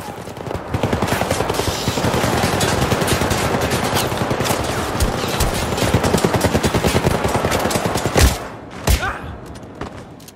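Dense, continuous automatic gunfire from the Syndicate video game, rapid bursts packed together for most of the stretch, with a few heavier thumps near the end as the shooting breaks off.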